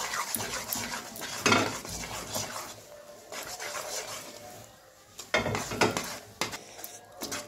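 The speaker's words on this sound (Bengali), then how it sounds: "এরকম কিন্তু অনবরত নেড়ে যেতে হবে" A spoon stirs sesame seeds into thick, sticky jaggery in a pan off the flame, giving repeated scraping and rasping strokes with soft metallic knocks in an uneven rhythm.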